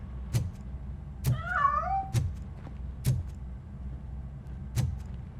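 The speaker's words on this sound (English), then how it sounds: "That cat must be hiding inside." A cat in RoboCop: Rogue City lets out one wavering meow amid a series of sharp, evenly spaced knocks or clicks over a low background hum.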